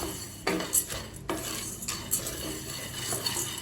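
Pottukadalai, roasted gram, is stirred in a pan over low heat, giving a soft continuous scraping with several louder clinks and scrapes of a spoon against the pan, without any talk.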